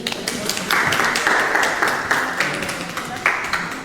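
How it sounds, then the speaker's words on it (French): Studio audience at a game show clapping in bursts, a brisk crackle of many hands with talk underneath, swelling and easing a few times. "on peut l'applaudir"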